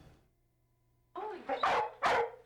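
A few sharp dog barks ring out at an animal shelter after a quiet start, close by, with a low steady hum running underneath.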